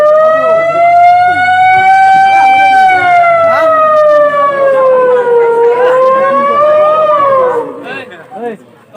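A human voice imitates a police car siren on a comedy stage, loud and sustained, with a long wavering wail that rises and dips slowly before trailing off near the end.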